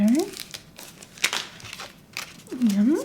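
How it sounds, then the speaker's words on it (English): Backing liner peeled away from a craft sheet, giving crinkly tearing bursts in a quiet room, with a voice talking briefly around the peeling. "Peeling away my liner"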